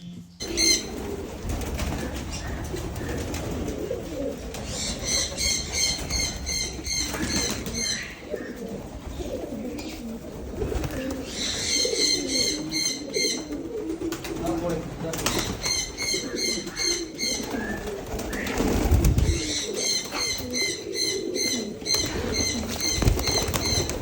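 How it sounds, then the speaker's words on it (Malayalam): Many pigeons kept on a small Kerala farm coo and rustle their wings in a steady, busy murmur, with brief bursts of higher chatter and fluttering repeating throughout and no voices over it. "ഒരുപാട് കളക്ഷൻസ് പ്രാവുകളുണ്ട്"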